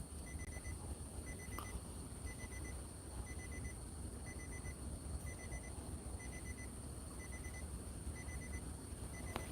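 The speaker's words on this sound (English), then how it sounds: "Yeah, alarm beeping." Alarm beeping faintly in a repeating pattern of short triple beeps at regular intervals over a steady background hiss, with no one speaking.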